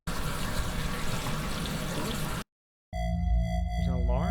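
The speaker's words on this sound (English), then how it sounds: "Water." Water sound effect from a space station ambience library: a steady dense rushing or splashing wash runs loud for about two and a half seconds, then stops briefly before a separate tonal, pulsing bubbly passage with warbling sweeps follows.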